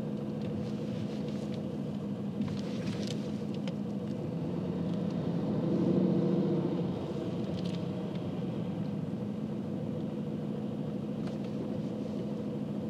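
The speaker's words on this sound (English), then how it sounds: "I'm going to go over some speed bumps now, see if we hear any weird rattles." A 2020 Aston Martin Vantage rolls over speed bumps between warehouse buildings in Las Vegas, giving a steady low cabin rumble with one brief swell midway. No one speaks.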